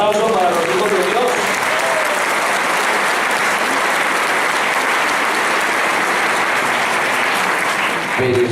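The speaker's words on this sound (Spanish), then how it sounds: "Un aplauso para los hijos de Dios." Loud, steady applause from a large audience at a church service fills the whole stretch, dense clapping with a voice briefly heard at the start and end.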